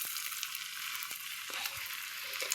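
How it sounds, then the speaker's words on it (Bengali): Pea and potato pakoras fry in hot oil with a soft, steady sizzle and a few faint ticks and pops, quiet and close, with no talking. "এইবার তেলও গরম হয়ে গেছে, এইবার শুধু ভাজবার পালা"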